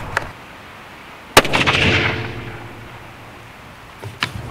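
A single sharp rifle shot from a CZ 600 chambered in .308 at a shooting range, loud and close, with a rolling echo that decays over a second or two, followed by quiet range ambience and a faint distant pop.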